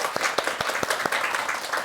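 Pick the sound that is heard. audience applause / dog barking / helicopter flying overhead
audience applause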